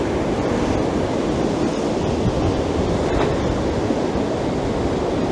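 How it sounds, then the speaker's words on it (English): Choppy sea waves churn loudly and continuously at a pier on a rough day, a dense unbroken wash of surf with wind noise and no voices. "quite choppy waves"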